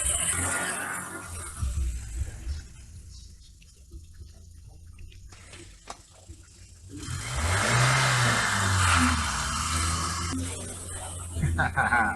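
A car pulls away and accelerates, engine noise swelling into a rising rev with a rushing wind-and-tyre hiss, heard from inside the cabin with the window down, fading back after the surge.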